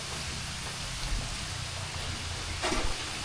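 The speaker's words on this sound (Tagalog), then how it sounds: "Pero hindi naman malakas ang ulan eh." Steady light rain falls in a continuous even hiss, with a faint patter throughout and no voices. It comes during a flood-prone spell.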